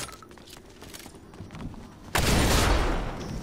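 Gunfire in Fortnite, a few scattered distant shots followed by a sudden loud burst of close firing that continues for about a second, with no voices.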